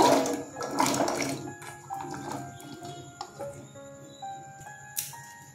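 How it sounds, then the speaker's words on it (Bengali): Potatoes drop into a bowl of water set on a gas stove for a Bengali potato dish, giving a few close splashes and plops followed by lighter clinks and water movement. "এবার জল শুদ্ধ বাটি বসিয়ে দিলাম। এর মধ্যে আলুগুলো দিয়ে দেব।"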